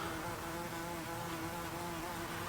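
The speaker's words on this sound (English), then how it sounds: "I've got a wasp near me." A wasp buzzes close by near an open window inside a room being fitted with a wood slat feature wall, a steady, dense droning hum that fills the whole moment with no speech.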